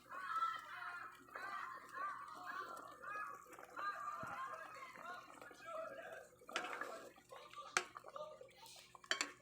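A utensil stirs pork chop pieces in a cooking pan, scraping and clinking softly against the metal amid light sizzling, while someone talks over it throughout.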